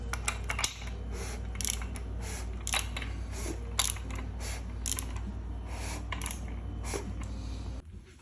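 Engine crankshaft being turned over by hand with a wrench on the crank bolt during a rebuild, giving a series of soft, close mechanical clicks and ticks over a steady low hum, with no talk.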